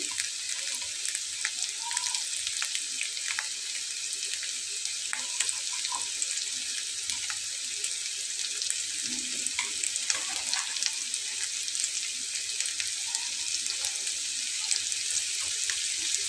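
Potatoes frying in a pan with turmeric and salt sprinkled on top. A steady, close sizzle and crackle that continues throughout, with occasional soft stirring clinks.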